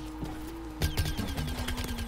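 Rapid bursts of gunfire in Plants vs Zombies: Garden Warfare 2, loud, close, repeated shots stacking into a dense fusillade with game effects underneath, no talk.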